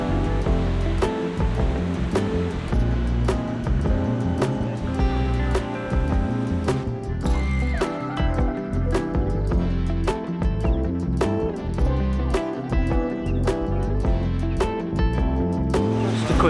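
A waterfall in Georgia rushes steadily, loud and continuous, with a dense broadband roar, while faint music plays over it.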